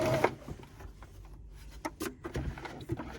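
A Singer M2015 sewing machine is heard in short mechanical bursts and clicks as it is switched into reverse and back to forward stitching, close and fairly quiet.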